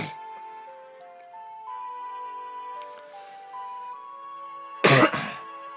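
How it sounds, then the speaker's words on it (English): A single sharp cough bursts out near the end, loud and close, after a few seconds of soft melodic ocarina tones from Ocarina of Time 3D. "I'm sorry about the cough I have."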